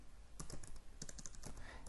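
Keystrokes tapping on a computer keyboard while an Ansible playbook is written, arriving in short irregular bursts of clicks at close range, with no talking.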